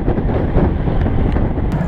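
Strong wind buffeting the microphone while cycling on an exposed road during a long gran fondo ride, a loud low rumbling roar with uneven gusts, continuous and close.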